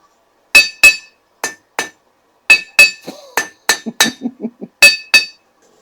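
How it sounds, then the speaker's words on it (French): A knife-forging blacksmith's hammer strikes an anvil in a forge, ringing metallic blows in irregular pairs and singles, followed by a quick run of lighter rebounding taps, loud and close with no talk. "Que le marteau reste en rebond sur l'enclume."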